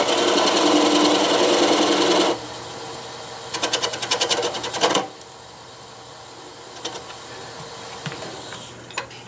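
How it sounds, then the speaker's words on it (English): A spindle gouge cuts cherry wood on a lathe, giving a loud, steady hissing shave that stops abruptly, followed by a burst of rapid rattling chatter and then the quieter hum of the spinning lathe. "I'm going to switch over to my little spindle gouge here and we'll cut that nub off."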